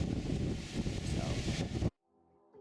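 Outdoor wind buffeting a microphone on a breezy, mild day, a loud rushing roar for nearly two seconds that cuts off abruptly into near silence.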